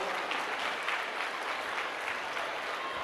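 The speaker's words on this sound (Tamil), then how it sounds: "நம்ம அன்னூர் டீமுக்கு ஒரு பலமான கைத்தட்டல் கொடுத்துருங்க எல்லாரும்" At a school annual day and prize distribution, the audience gives the school team a strong, steady round of applause, a continuous wash of many hands clapping at a fairly distant, even level with no pauses.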